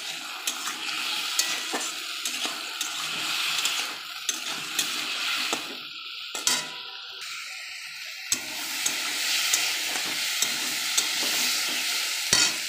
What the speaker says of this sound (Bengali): লাউটা ভাজা হয়ে গেল,